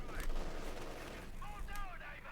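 Panzerwerfer rocket artillery firing in the strategy game Company of Heroes 2, a dense rumbling barrage of launches and blasts rolling continuously at moderate level, mixed with other battle noise.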